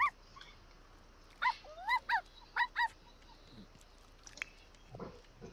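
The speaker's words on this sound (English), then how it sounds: "What in the world are you puppies up to?" Puppies in The Sims 4 video game let out a rapid run of short, high whimpers and yips in the middle, with quieter sounds before and after over a low background.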